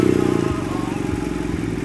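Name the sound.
BMW F800R motorcycle engine starting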